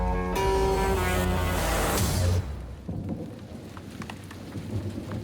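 Heavy rain pours during a film scene as a loud, rolling thunderclap booms for the first couple of seconds, then fades into the steady hiss of rainfall on surfaces.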